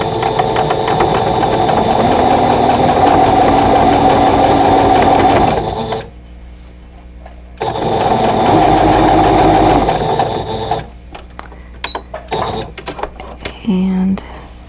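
A sewing machine stitches a quilt block seam with a fast, even mechanical whir. It runs for about six seconds, pauses, then runs again for a few seconds, followed by scattered handling clicks and brief quiet talk.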